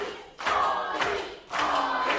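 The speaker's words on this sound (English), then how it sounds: "And the crowd are fully behind him as he kicks Fortunato away" A live wrestling audience at a London tag team show roars in three rising swells, loud and dense with shouts and cheers and no commentary.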